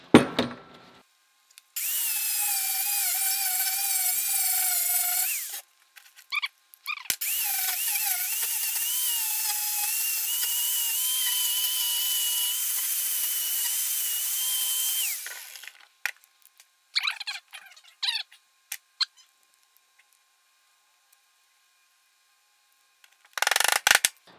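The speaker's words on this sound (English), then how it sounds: "we're going to take the flap disc on the grinder and we're going to grind away some of this" An angle grinder with a flap disc whines at a high, steady pitch while grinding a steel knife blank, running in two long passes of several seconds each, followed by short bursts and clatter, then silence.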